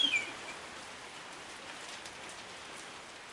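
Steady rain falls on surfaces outdoors as a constant soft hiss, with a brief bird chirp at the very start and no voices.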